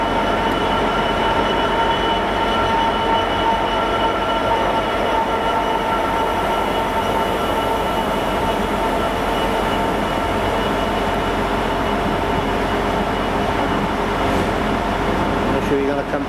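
Freight train of empty wagons rolling slowly past at Cardiff on the way to a steelworks, a continuous rumble of wheels with faint squeals, close and steady, with people chatting nearby.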